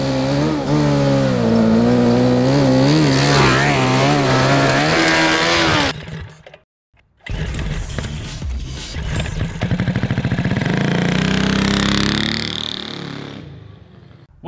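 A 750cc cross kart engine revs hard, loud and raspy, cuts out briefly, then roars back up with rising and falling throttle before dropping away at the end.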